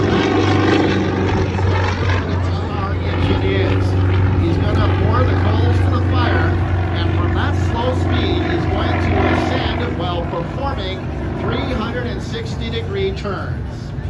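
A propeller aircraft engine at an air show throttles up to a loud, steady drone that holds throughout, with a voice talking over it.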